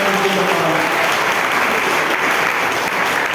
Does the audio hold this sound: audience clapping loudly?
yes